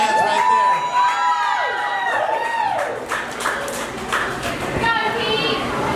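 Fans at a taco eating contest cheer and shout loudly from close by in short, rising whoops, with a voice talking over the crowd noise.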